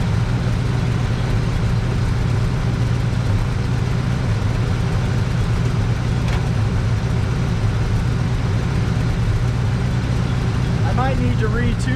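A 1962 Chevrolet C10 pickup idles steadily in a low, even rumble that runs unbroken from start to finish, with its engine recently fitted with new spark plugs and not yet retuned.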